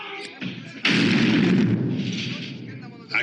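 A rocket gun from the James Bond film You Only Live Twice fires with a sudden loud blast that holds as a sustained roaring burst, then fades to a lighter rumble before a short closing pop.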